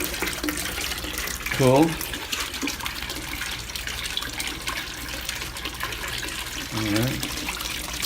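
Water flows steadily into a small patio pond, a constant trickling splash under a man's brief spoken remarks, with two short low hums between.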